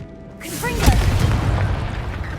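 In Hogwarts Legacy, the Confringo blasting spell lands with a deep, sudden boom. A crackling, rumbling tail follows, and a voice is heard briefly just before the blast.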